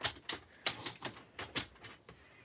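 Cardstock being trimmed for a handmade fold card, a quick series of about seven crisp, clacking cuts or slides at close range, with no talking.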